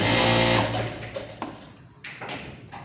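A sewing machine double-stitching pants runs loud and steady, then slows into short bursts of stitching with small clicks and pauses, heard close up without talk.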